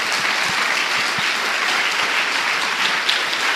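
A church congregation applauds during a sermon, a dense, sustained wash of many hands clapping at a steady level, with occasional low thumps beneath it.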